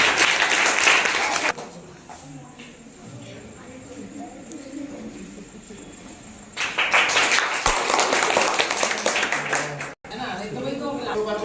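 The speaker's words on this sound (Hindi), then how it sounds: "बहुत बढ़िया, ताली बजाओ।" Classroom applause, bursts of clapping from a group at the start and again later, with quieter talk between them.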